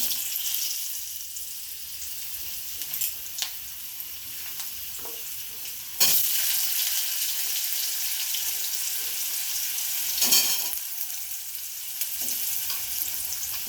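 Potatoes and pointed gourd sizzle together in hot oil tempered with panch phoron, bay leaf and dried chilli, a steady close frying hiss with occasional spatula scrapes and a louder burst of sizzling partway through.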